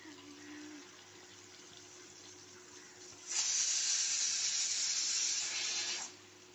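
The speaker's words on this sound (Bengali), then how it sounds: "ডাল সিটি হচ্ছে, আপনারা আওয়াজ পাচ্ছেন" Pressure cooker whistle while moong dal cooks: a loud, steady high hiss of escaping steam bursts in midway and holds for about three seconds before cutting off, following a quieter background hiss.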